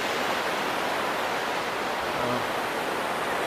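A waterfall at the Amba Waterfall Camp Resort campsite gives a steady, even rush of water that fills the whole stretch, with no voices over it.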